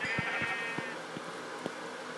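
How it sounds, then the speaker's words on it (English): Repeated short sheep bleats from Minecraft, about six evenly spaced calls, sound clearly over a faint steady background hum. "there's a sheep"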